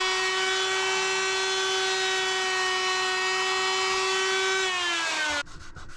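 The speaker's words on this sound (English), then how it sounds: "I'm going to flatten this now with my router sled." A router on a router sled spins at a steady high whine while flattening wood, its pitch sagging briefly before the motor cuts off abruptly near the end.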